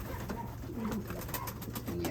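Pigeons coo softly in a loft, with a few low, brief coos over a faint steady background hum and no talking.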